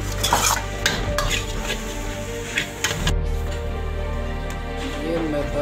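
Momo filling is stirred and fried in a kadhai, with repeated metallic scrapes and clinks of a spoon against the pan over a low sizzle and a steady background hum.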